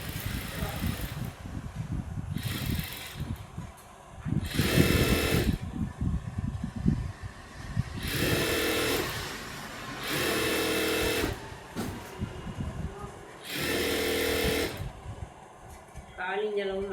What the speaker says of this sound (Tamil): இப்போ அந்த எண்டு இந்த எண்டே நம்ம மடித்து தைக்கிறோம்.